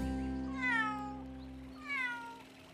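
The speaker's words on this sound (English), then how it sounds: "Don't worry, little kitten." A cartoon kitten meows twice, each a rising-then-falling cry about a second apart, clear and fairly soft over a quiet background hum with no speech.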